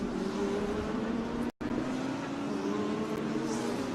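Bentley and Lamborghini Huracan GT race cars brake and overtake at a circuit, producing a sustained engine drone that holds steady throughout, cut by a brief dropout near the middle, with no speech.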